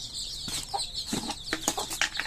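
Native chicks in a small backyard flock give a series of thin, high peeping calls in quick, irregular bursts, with a few louder clucks mixed in nearby.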